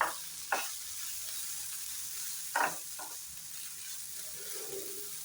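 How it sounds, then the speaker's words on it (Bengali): Masala spices sizzling steadily in a pan of oil with onion, ginger and green chili, with a few sharper stirring scrapes over a continuous close frying hiss. "মশলাটা আমার খুব সুন্দর করে ফ্রাই হয়ে গেল"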